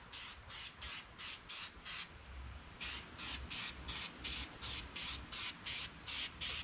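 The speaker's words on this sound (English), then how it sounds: "I'm going to stick it to the log with the 3M spray adhesive." Spray adhesive from a 3M can hisses onto a log in a rapid series of short, even bursts, each about a quarter second long, with one longer pause partway through.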